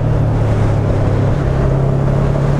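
Voge 500AC motorcycle riding through a corner, a loud, steady low engine drone mixed with heavy wind rush, continuous and close.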